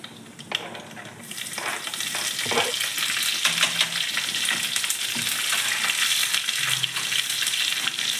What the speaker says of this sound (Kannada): ಈ ಸಾಸಿವೆ ಸಿಡಿತಿದ್ದಂಗೆ ಹಸಿಮೆಣಸಿನ್ಕಾಯಿ ಸಣ್ಣ ಕಟ್ ಮಾಡ್ಕೊಂಡಿರೋದು ಒಂದೆರಡು